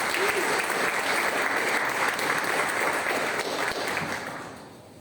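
A church congregation at a Baptist missions service claps loudly and steadily, the applause holding strong before tapering off near the end.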